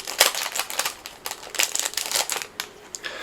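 A plastic packet being torn and opened, giving sharp crinkling and crackling bursts in an uneven rhythm, close and fairly loud, with no speech.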